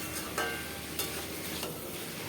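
Mixed vegetables with salt and turmeric being stirred in a pan, a soft steady sizzle broken by a few faint scraping strokes of the spoon, quiet and close.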